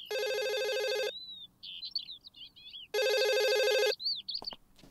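A telephone rings in two loud, bright electronic bursts separated by a pause, with faint chirpy tones in the gaps and a light clatter at the end.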